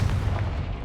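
A Confringo spell blast in Hogwarts Legacy, a single deep booming burst with heavy low rumble lasting under a second, loud and close.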